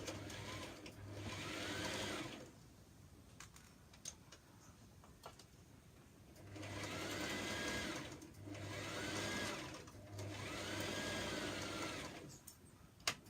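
A sewing machine stitches the back neckline of a homemade top in three bursts of rapid mechanical whirring, each lasting a couple of seconds, separated by quiet pauses with faint handling clicks.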